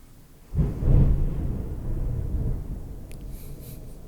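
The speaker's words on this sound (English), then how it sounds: "there was a huge clap of thunder." A deep rumble of thunder breaks suddenly and rolls on for a few seconds, loud and low, fading slowly.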